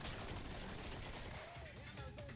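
Dense, loud gunfire from the video game Killing Floor, a continuous barrage over the whole stretch with no clear breaks.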